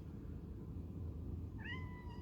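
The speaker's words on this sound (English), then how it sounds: "my cat came in" A single short cat meow rises near the end, close but fairly quiet over a steady low background rumble.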